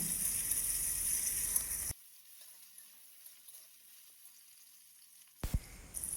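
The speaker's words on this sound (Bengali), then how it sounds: "এখন আমগুলোকে একটু ভেজে নেব যাতে কাঁচা গন্ধটা চলে যায়" Mango pieces frying in a pan with onion and garlic give a steady sizzle for about two seconds before it drops to near silence, followed by a brief clatter.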